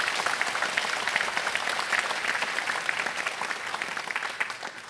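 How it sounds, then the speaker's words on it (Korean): A church congregation claps together during a Sunday worship service, a dense, even wash of applause from a large room that tapers off slightly at the end. "여러분 박수 한번 해주시면 고맙겠습니다"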